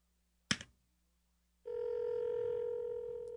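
A phone call being placed: a short burst of sound, a pause, then a steady, loud dialing tone that holds until the end.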